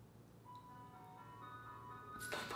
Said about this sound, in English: It's the fucking ice cream truck.